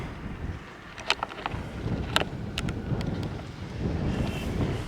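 Gusts of outdoor wind buffet a camera microphone beside a garage, giving a steady low rumble with a few faint clicks and knocks over it.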